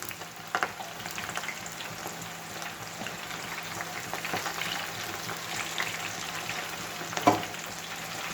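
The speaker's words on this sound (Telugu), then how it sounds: "మెంతి కూర మాత్రం పచ్చిదే వేసానమ్మా" Fenugreek leaves and snack batter frying in a pan of hot oil for a home-made snack, giving a steady close sizzle with a few brief stirring knocks and pops and no talking.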